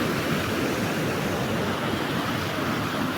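A forest stream near Tetouan flows steadily, a continuous broadband rush of running water at even loudness throughout, with no voices.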